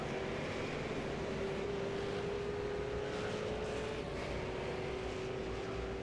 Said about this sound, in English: He's going for the old NASCAR style burnout. Put the splitter up against the wall and light up the tyres.